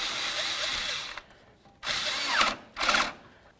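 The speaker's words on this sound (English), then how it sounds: "make sure that they're nice and snug using a ratchet and an 8mm socket" Power driver with an 8mm socket tightening hose clamps on the lower radiator hose of a 2002-08 Dodge Ram, one long whir then two shorter bursts separated by pauses, close and loud.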